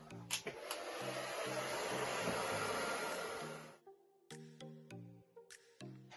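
A heat gun blows with a loud whooshing roar for a few seconds while heating the chrome trim on a shopping cart, then cuts off, leaving soft clicks and faint background music.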